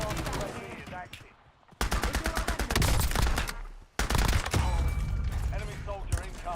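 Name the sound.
gunfire in Call of Duty Warzone video game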